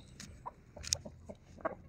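Backyard roosters cluck softly and intermittently, a few short scattered calls and faint peeps at low volume.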